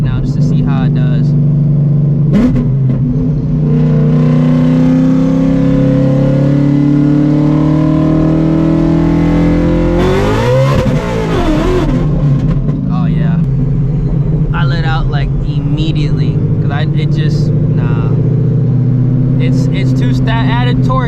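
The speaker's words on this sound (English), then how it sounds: "I'm gonna do a second gear hit right now just to see how it does." A 900 hp Shelby GT350 with a built transmission pulls hard in second gear, its engine droning loudly and steadily with a rising shift in pitch midway, heard from inside the car while people talk over it.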